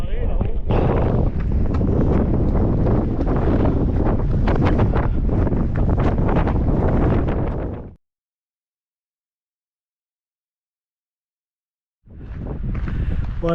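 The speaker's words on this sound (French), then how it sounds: "Comme vous voyez, il y a du vent." Strong wind buffets the microphone in a loud continuous rumble on a trail in the calanques of Marseille, cutting to silence for several seconds before the gusting returns.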